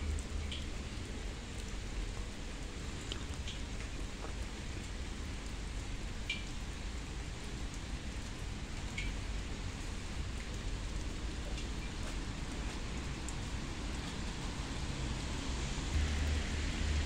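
Steady rain falls without a break near a gazebo in Târgoviște, a dense even patter with no voices.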